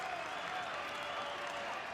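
A huge crowd cheers and applauds steadily at a Red Bull Soapbox race in Paris, a dense, continuous roar of many voices and clapping that holds at a fairly even level throughout.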